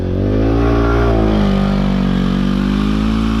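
A motorbike stuck in a sandy rut on a coastal track revs hard, its engine droning loud and close with the pitch sliding and wavering as the throttle is held open.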